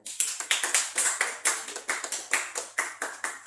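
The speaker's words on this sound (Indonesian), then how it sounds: "Tepuk tangan." Classroom applause for a school team's quiz score, a small group clapping in a quick, uneven rhythm of sharp, close claps, with no talk over it.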